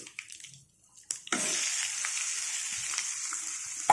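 Coconut chutney hits a hot pan of tempering with asafoetida, bursting into a loud, steady sizzle that runs on after a brief quiet start with a few light clinks.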